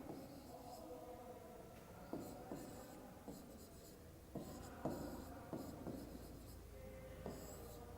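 Writing on a board during a primary-school maths lesson on measuring length comes as quiet scratchy strokes in short bursts, with brief taps and pauses between words.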